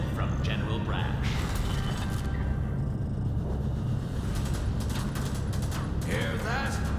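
Bullets striking heavy armor in Helldivers 2, a dense clatter of metallic pings and impacts over continuous gunfire and rumbling battle noise, with voices chattering beneath the din.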